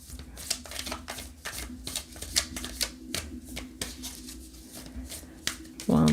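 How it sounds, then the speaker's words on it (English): Tarot cards being shuffled by hand, a steady run of soft riffling taps and slaps up close, with a louder thump right at the end. "I'm going to go and shuffle a little bit for the next one here."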